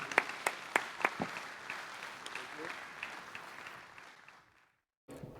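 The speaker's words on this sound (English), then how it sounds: "Can we give them another round of applause?" Audience applause closes a panel session at the UNIAPAC World Congress 2024: several sharp, close claps ring out over a steady wash of clapping that thins and fades, ending in near silence before a brief burst of noise at the very end.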